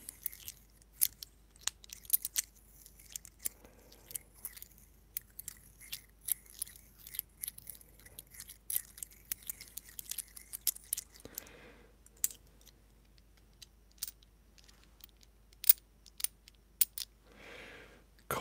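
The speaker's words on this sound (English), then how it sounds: "There's a lot of different handling sounds we can get out of" A few coins are handled near the microphone, giving sharp, scattered metallic clicks and clinks in irregular bursts over near-silence, with some quieter rustling in between.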